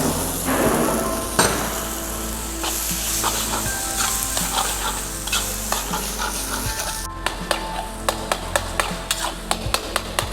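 Chopped tomato cooks in a pan of oil for baigan bharta over a slow flame, giving a steady loud sizzle under constant stirring. A run of sharp metallic clinks from a utensil striking the pan comes toward the end.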